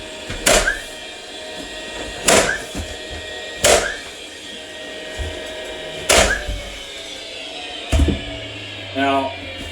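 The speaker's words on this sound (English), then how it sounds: "I really like cordless nail guns for trim work like this" Cordless nail gun shooting base shoe molding into place, five or six sharp loud cracks spaced a couple of seconds apart, each with a brief mechanical whir, close up.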